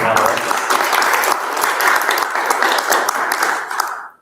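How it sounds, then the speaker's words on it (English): An evening town hall audience applauds the panelists with a loud, continuous burst of clapping that holds steady for about four seconds before cutting off abruptly. "Round of applause"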